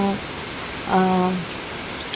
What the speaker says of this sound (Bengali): এখন মুষলধারে বৃষ্টি নেমেছে